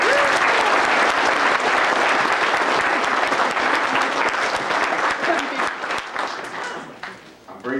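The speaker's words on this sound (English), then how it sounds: "give yourselves a big hand of applause" Audience applause at a George R.R. Martin book signing at The Tattered Cover bookstore, a dense sustained wash of many hands clapping for about seven seconds, loud and steady before thinning out at the end.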